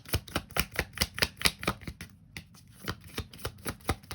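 Tarot cards are shuffled by hand in quick, rhythmic riffling bursts with a brief pause midway, close and clear with no voices.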